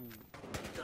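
Gunfire in the Battlefield Hardline multiplayer shooter on PS4: a quick burst of several sharp shots in under a second, fairly close, with a voice briefly under it.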